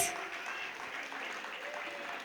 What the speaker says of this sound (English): I want all of you to clap for Mahit.